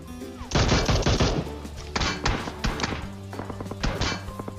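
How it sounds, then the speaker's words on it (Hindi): Rapid bursts of gunfire from the PUBG Mobile video game, with several close, loud volleys of shots in quick succession followed by scattered single cracks and thuds. "भाई ने यार गोली पेल दी मेरी"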